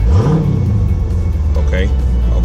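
A 2018 Dodge Charger Scat Pack's engine revs up in a quick swell and settles into a deep, loud rumble, heard close during an RPM test, with a voice briefly overlapping.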